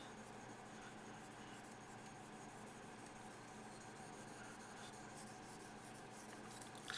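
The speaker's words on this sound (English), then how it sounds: "using shorter strokes, as you see here, on this side is allowing me to control it a lot better" Short strokes of a yanagi knife edge on a Han-Han sharpening stone make a steady, quiet gritty rasp that continues without a break and stands alone with no talking.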